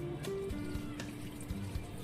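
Water trickles and splashes steadily onto potted plants on a home balcony, soft and close, with faint background noise and no talk.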